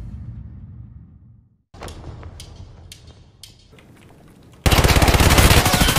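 Gunfire in the video game Escape from Tarkov: a few scattered sharp shots ring out, then a loud, rapid automatic burst hammers continuously near the end.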